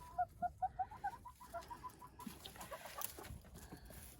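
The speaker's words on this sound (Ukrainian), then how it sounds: "купили ми собі курочок. Це кури яєчного кросу е, Ломан Вайт" Lohmann White laying hens cluck in a quick run of soft, repeated notes, then more scattered clucking continues faintly with no one speaking.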